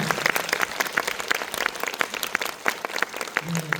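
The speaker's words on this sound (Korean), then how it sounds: "배우님과 감독님, 프로듀서님 박수 부탁드립니다" An audience applauds the actors, director and producer at the close of a film Q&A screening, steady crowd clapping with distinct individual claps standing out, continuing throughout without speech.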